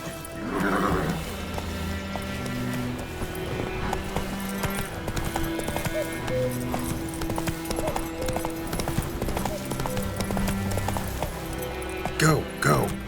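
Roach the horse gallops in The Witcher 3: Wild Hunt, a steady run of clip-clop hoofbeats lasting throughout over game music, with a brief whinny-like burst near the end.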